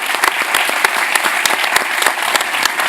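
Audience at an Israel Australia investment summit panel claps steadily, with distinct individual claps in a brief burst of applause.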